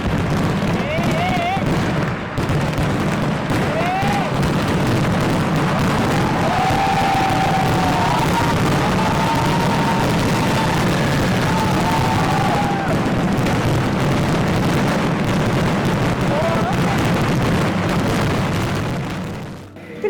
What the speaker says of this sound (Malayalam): വെടിക്കെട്ട് നടക്കുന്നു